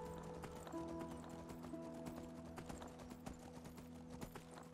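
Steady clip-clop of galloping horse hooves in the video game Enderal: Forgotten Stories, rapid and rhythmic, over a constant droning background hum with a brief higher tone.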